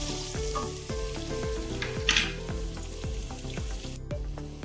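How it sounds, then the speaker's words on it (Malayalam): Chopped garlic and ginger sizzle steadily in hot oil in a pan, with repeated scraping strokes of a spatula stirring through the continuous frying hiss, close and fairly loud, no talking. "വെളുത്തുള്ളി ചെറുതായി അരിഞ്ഞ, 1/2 സ്പൂൺ ഇഞ്ചിയും കൂടി ചേർത്ത് നമുക്ക് നന്നായിട്ട് അതൊന്ന് ഫ്രൈ ചെയ്തെടുക്കാം."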